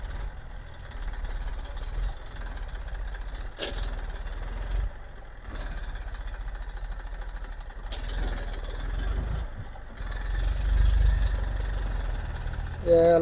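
A brand-new 2026-model Massey Ferguson tractor idles with a steady, close mid-pitched engine rumble while stopped on a very rough road, its throb swelling slightly near the end.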